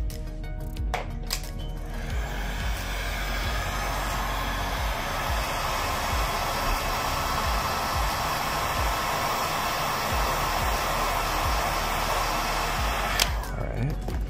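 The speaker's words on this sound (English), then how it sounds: "I'm gonna blow heat on this side" A heat gun blows hot air onto the side of a Samsung Galaxy Note 20 Ultra during a screen replacement, a steady close hiss that runs unbroken for about twelve seconds between faint clicks of handling at start and end.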